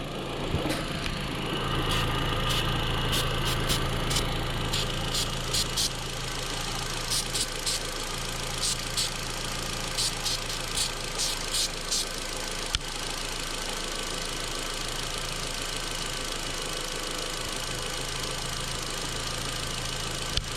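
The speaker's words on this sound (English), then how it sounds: "It's idling just barely rough." A Volkswagen Jetta with misfires and a lean code idles just barely rough, a steady close engine drone with a subtle uneven pulse, overlaid by intermittent hissing spray bursts.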